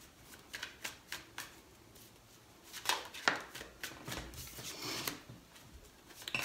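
Tarot cards shuffled by hand during a reading, a run of soft riffling flutters and taps with a few sharper snaps midway, close and alone with no voice.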